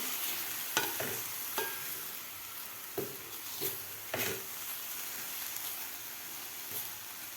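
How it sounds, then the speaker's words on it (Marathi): Grated carrot cooked with milk and milk powder is stirred in a pan on the stove, a soft steady sizzle with several scraping strokes of a spoon early on, quiet and close. "दूध घातल्यानंतर आपल्याला व्यवस्थित हे मिक्स करून घ्यायचं आहे"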